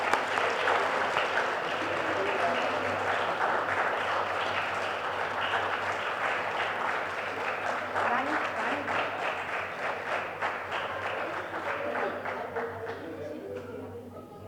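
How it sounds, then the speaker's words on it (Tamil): A crowd at a book release event breaks into loud, sustained applause, many hands clapping densely for several seconds before thinning slightly toward the end. "நூல்கள் வெளியீடு பலத்த கைத்தட்டலுடன்."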